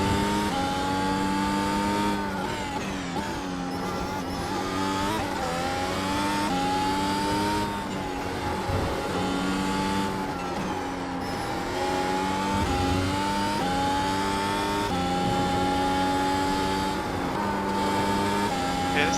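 A Mercedes W12 Formula 1 car in iRacing: a loud, close, continuous high-pitched engine whine that rises through the gears and drops under braking, with repeated shifts and no talking.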